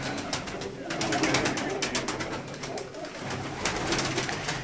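A flock of Lal Pari pigeons cooing close by, a dense murmuring burble that swells and fades, with faint voices in the background.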